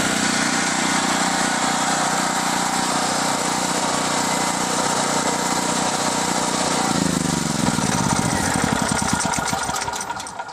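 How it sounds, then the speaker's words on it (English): A Generac GP7500E portable generator engine runs steadily outdoors with a loud, continuous drone recorded up close, its pitch wavering near the end as the engine begins to wind down. "It's really a powerful little generator, so definitely good for whole home power."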